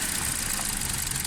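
A 2017 Toyota Corolla Altis engine idles roughly with one ignition coil unplugged, giving a close, steady, uneven mechanical drone with slight pulsing throughout a short stretch.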